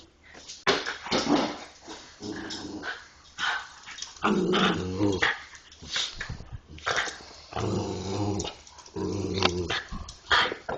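Two dogs growl while playing, with rough, rumbling snarls and grumbles coming in repeated close bursts, broken by brief pauses and a few whimpers.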